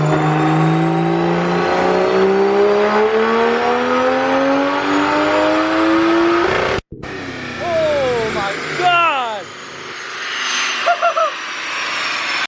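A single-turbo BMW 335i roars through a full-throttle dyno pull, its engine note climbing steadily in pitch for several seconds before abruptly cutting off, followed by lower, quieter revving and a few short throttle blips.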